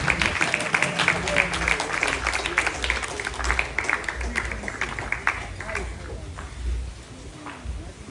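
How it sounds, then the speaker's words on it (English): Long applause at a funeral ceremony: dense, steady clapping from a gathered crowd runs throughout, mixed with murmuring voices and thumps, easing slightly near the end. "So I want a long applause here for her because she come from far."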